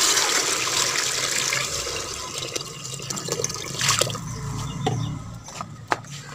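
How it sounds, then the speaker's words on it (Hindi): Water is poured into a cooking pot of chana and maash daal, a loud splashing gush at first that thins into uneven trickles and drips, with a few sharp knocks near the end. "अब इसमें डालेंगे पानी।"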